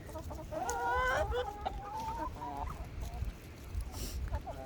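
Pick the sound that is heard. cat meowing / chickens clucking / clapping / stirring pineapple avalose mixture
chickens clucking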